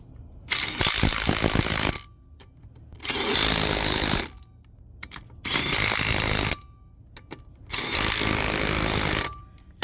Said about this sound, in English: I'm gonna actually use my impact gun.